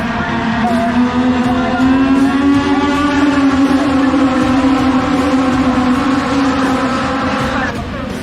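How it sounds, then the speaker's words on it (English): A pack of race cars running hard around Lee USA Motor Speedway, their engines merging into a loud, steady, buzzing roar that holds for the whole stretch without a break. "these cars being pushed to their limits really sounds like a pack of angry"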